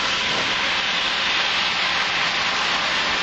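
Maple syrup sizzling in a hot pan with browned pork chops gives a continuous, even hiss, close and fairly loud throughout, with no talking.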